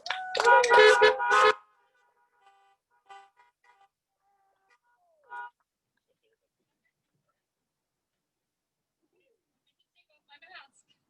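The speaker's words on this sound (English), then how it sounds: "So please welcome, give a great honk for my friend and the Executive Director, Melisa Lindros." Car horns honking in a loud cluster of overlapping blasts at a morning community event held as a drive-in gathering, followed by a few faint, scattered toots from farther off.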